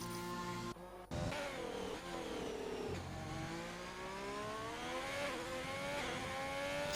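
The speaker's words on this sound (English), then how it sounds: "This car sounds and feels so nice." A race car engine in a sim racing game revs steadily through rising gear pulls, with a brief cut around one second followed by a sustained, moderately loud whine that keeps climbing in pitch.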